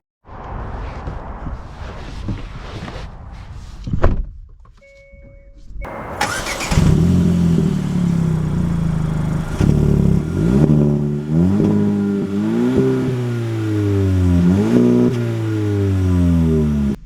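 A 2024 Hyundai Elantra N-Line starts up with a brief crank and settles into a steady engine note, then accelerates through several clear rising revs with gear shifts, loud and close inside the car.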